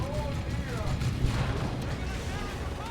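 Battle sounds from Warhammer 40,000: Dawn of War 2 with Imperial Guard against Chaos: a grenade blast within dense gunfire and booming explosions, a continuous loud roar of combat with a commentator talking over it.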